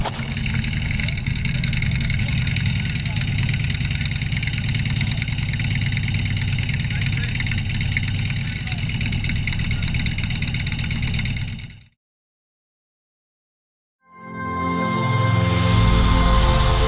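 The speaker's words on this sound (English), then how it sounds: "Lone Star Rider on his motorcycle, raising money, making friends, seeing the country" A motorcycle engine idles steadily with a low, throbbing rumble for about twelve seconds, then cuts to silence before another engine-like sound resumes near the end.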